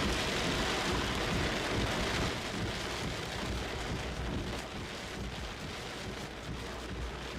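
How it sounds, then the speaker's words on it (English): Heavy rain pours down continuously during a storm with tornado warnings, a dense, loud hiss of drops hitting surfaces with a low rumble underneath and no voices. "It's raining"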